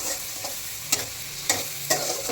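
Onions fry in a pan for lemon rice, giving a constant crackling sizzle broken by three sharp scraping stirs spaced about half a second apart, heard close with no voices.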